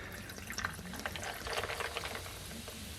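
A tea cocktail topped with club soda, heard as a quiet, steady fizz and light watery swirling of liquid in a glass, soft and close with no voices.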